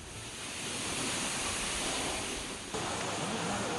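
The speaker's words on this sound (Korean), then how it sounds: "대단합니다 경풍폭포" Waterfall at Gangcheonsan county park in Korea, the Byeongpung falls dropping over a cliff into a clear mountain valley, gives a steady, dense roar of falling water that fills the whole clip without a break and sounds loud and close.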